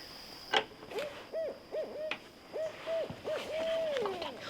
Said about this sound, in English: We heard an owl hooting in the trees as we approached the blind,